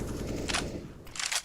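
Two bursts of RPK machine gun fire in CS:GO, heard as a continuous rattle and then a louder, brighter burst near the end, during a BLAST Premier 2020 esports match.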